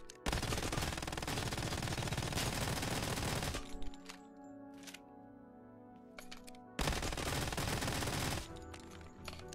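Automatic gunfire with heavy recoil in the mobile shooter Lost Light comes in two long, loud, rapid bursts separated by a quieter gap of scattered shots and game noise.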